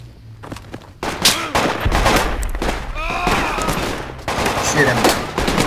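Gunfire in the military shooter video game Project Reality: loud overlapping rifle and automatic bursts with sharp cracks and rumbling echoes, sustained throughout, close to mid distance, with a brief voice underneath.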